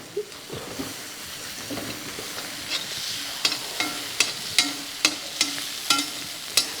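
Prawns and garlic fry in a coconut oil masala, a steady sizzle broken by repeated scraping stir strokes that come faster and sharper in the second half, close to the pan.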